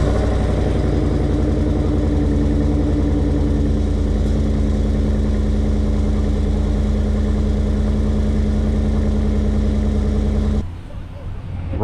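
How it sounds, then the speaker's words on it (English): Chevy 2500HD pickup truck engine after a cold start, a loud, deep, steady idle rumble with a rhythmic low throb, continuing close up until it cuts off abruptly near the end. "I'm gonna give you guys a cold start real quick just so you can hear the truck"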